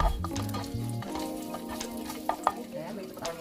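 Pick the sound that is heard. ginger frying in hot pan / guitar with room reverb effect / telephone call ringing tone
ginger frying in hot pan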